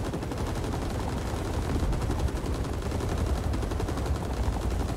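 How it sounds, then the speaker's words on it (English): Sustained rapid automatic gunfire in Rising Storm 2: Vietnam, a dense, loud, unbroken rattle of weapons firing throughout. "Let's let these guys shoot for a bit."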